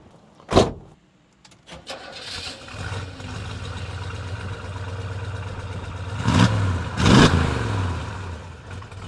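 A Chevrolet Chevelle with a 454 LS5 big-block V8 engine cranks and fires up with sharp bursts, then settles into a deep rumbling idle before revving as it pulls away.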